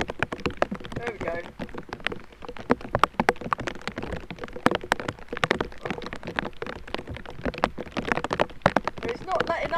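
Steady outdoor rain patters densely on surfaces around a T'ai Chi fitness session, a continuous crackling hiss with scattered sharper drops, while a person speaks over it.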